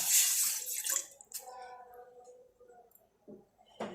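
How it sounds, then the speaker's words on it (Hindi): Half a cup of water poured into a pan, a brief splashing rush at the start that fades, followed by a few clinks and light handling sounds. "इसमें आधा कप पानी डाल देते हैं"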